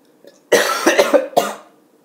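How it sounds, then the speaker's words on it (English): A sick person gives a few harsh, close coughs in quick succession, a short burst of throaty hacking that ends after about a second. "Sorry, I'm coughing, I'm a bit sick."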